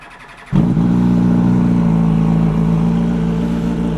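A Suzuki SV1000 motorcycle's V-twin engine starts up after near silence and settles into a steady, loud, close idle as it warms up, with no talking.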